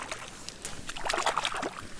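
Hands dipped and swished in water outdoors, a low continuous slosh and splash with brief trickles, close and moderately loud.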